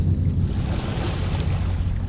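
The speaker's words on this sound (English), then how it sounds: "the wavelets washed the base of the Cyclopean monolith" Waves wash steadily against the base of a huge stone monolith in the horror game Dagon, a continuous low rushing surf with a faint windy hiss, no voices.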